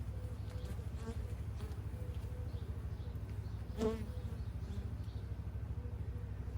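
Honey bees buzz steadily around an opened beehive frame heavy with nectar and drone comb, a dense continuous hum close by with one brief louder pass near the middle.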